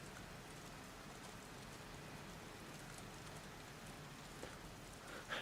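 Steady, soft rainfall patters continuously in the video game Heavy Rain, a quiet, even wash of drops on surfaces with no speech over it.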